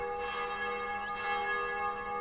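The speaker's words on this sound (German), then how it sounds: "Oder warum läuten hier die Glocken?" Church bells toll in the Black Mirror adventure game, a steady ringing with sustained tonal overtones over a quiet ambient background, with no talking.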